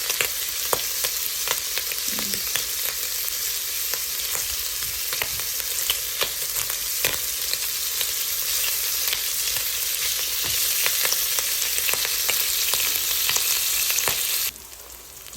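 Bacon sizzles and crackles in its own rendered fat in a pan, a loud, steady frying hiss with dense popping that continues throughout, with no voices.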